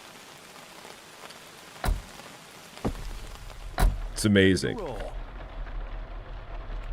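Steady rain hiss falls throughout an Outbound video game scene, a broad wash of drops with a few sharper knocks and a brief burst near the middle, while a voice talks over it.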